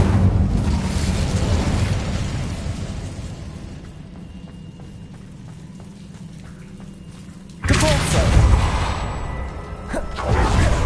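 A fire spell in Hogwarts Legacy goes off as a loud whooshing roar of flame. It fades into a low rumble, then bursts again with a second powerful rushing surge near the end.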